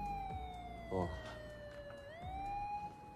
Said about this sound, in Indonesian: terdengar suara sirine kepolisian yang sedang menuju ke sana